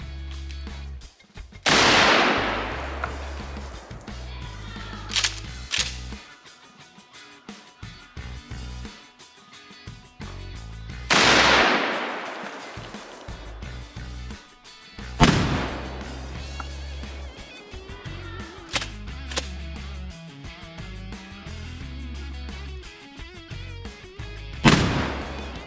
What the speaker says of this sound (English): Next up is the 1 ounce 12 gauge slug out of the Mossberg 500.